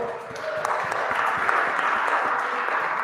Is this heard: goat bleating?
no